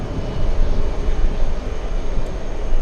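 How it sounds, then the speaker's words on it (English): An American Airlines airliner on final approach, inbound from Heathrow, gives a loud, steady, broadband jet roar that stays constant for the whole stretch. "the American on final approach flying in from Heathrow"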